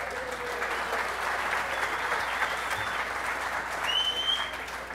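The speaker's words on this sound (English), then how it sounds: "Please give them a big round of applause." Audience at a sailing race skippers' briefing applauding the yacht club race committee, a continuous even round of clapping from a roomful of people, moderately loud and unbroken.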